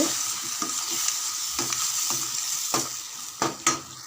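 Tamarind rice is stirred together with spice powder in a pan over low heat, a spoon scraping and scooping in uneven strokes over a soft steady sizzle, a couple of sharper scrapes near the end.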